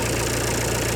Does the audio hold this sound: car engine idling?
yes